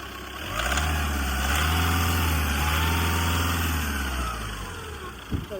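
A 2015 Volkswagen Polo 1.5 TDI Highline diesel engine idling, a steady low rumble close by that holds evenly for several seconds before tapering off, with no talking.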